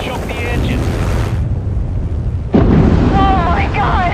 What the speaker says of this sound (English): When the building collapses, the dust cloud will choke the engine.